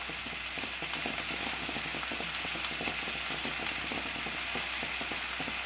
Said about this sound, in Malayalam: ഇനി ഇതിലേക്ക് നമുക്ക് മുഴുവനോട് കൂടിയ മല്ലി ചേർത്ത് കൊടുക്കാം